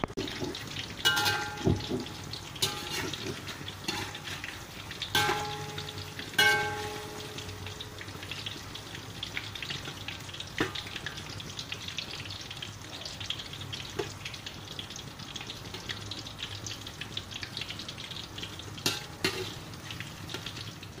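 Banana fritters frying in oil, a constant soft sizzle with occasional clinks and stirring scrapes of a utensil, close and moderately quiet, with no voices.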